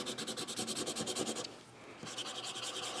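A Prismacolor crayon is dragged in quick strokes across paper, giving a close, quiet, rhythmic scratching that pauses briefly and then resumes.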